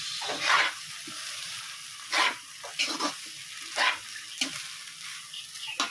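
Shrimp cook in a pan, stirred with a utensil: a steady sizzle runs throughout, broken by several sharp scraping strokes at irregular intervals, up close.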